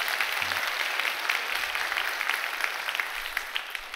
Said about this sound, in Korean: 다시 한번 영광의 박수 한번 크게 하겠습니다